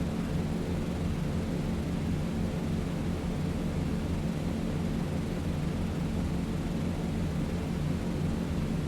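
In a flight game, B-17 bomber engines throttle up for takeoff, a loud, constant, broadband propeller drone that fills the whole stretch without letting up.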